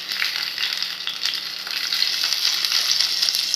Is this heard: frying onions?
yes